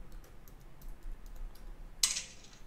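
Faint rapid key taps on a Mac keyboard as a password is typed, light soft clicks in quick succession ending with a sharper, louder keystroke, in a quiet room.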